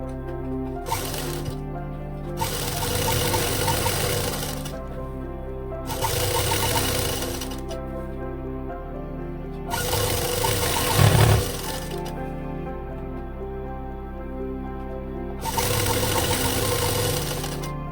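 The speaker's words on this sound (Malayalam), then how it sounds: "അപ്പോൾ മെയിൻ മെറ്റീരിയൽ ഇതേപോലെ അങ്ങ് സ്റ്റിച്ച് ചെയ്ത് കൊടുത്തിട്ടുണ്ട് കേട്ടോ." An electric sewing machine stitching the side seams of a top's main fabric runs in five short bursts of a few seconds each, with quiet pauses between them.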